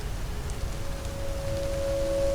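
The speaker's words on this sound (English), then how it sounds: "The rain hasn't stopped since you got here." Steady rain patters and hisses in the video game Forget Me Not, a soft, even wash of falling drops with no voices.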